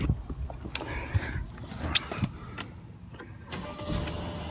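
A 2014 Mercedes-Benz S550 Sport starts up nearby: a brief starter crank and the engine catching into a steady idle, punctuated by a few sharp clicks and knocks from inside the car.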